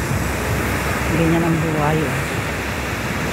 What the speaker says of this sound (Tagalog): Masarap ang tunog ng hampas ng alon